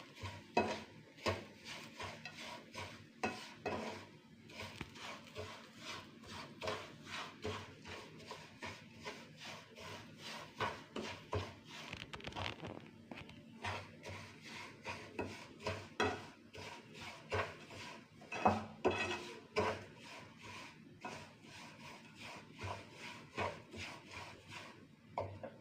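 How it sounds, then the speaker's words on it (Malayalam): Okra being stir-fried in a pan, with a spatula scraping and clattering against the metal in a steady, busy rhythm of quick knocks and rubs, close and fairly quiet, with faint sizzling underneath. "നമുക്ക് നല്ലോണം വറുത്ത് എടുക്കാം"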